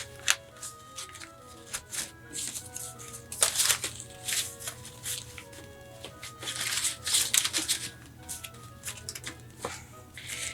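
Strips of paper bag being folded and creased into a basket make close, irregular crinkling and rustling bursts with soft taps between them, no speech.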